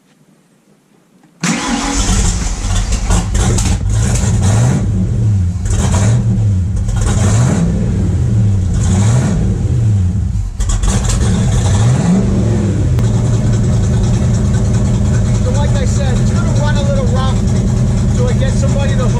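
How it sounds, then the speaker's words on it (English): An 8-stack EFI car engine cranks and catches after a second of quiet, then revs repeatedly in rising and falling sweeps before settling to a rough, loud idle, with a voice occasionally over it. "So let's get the car started."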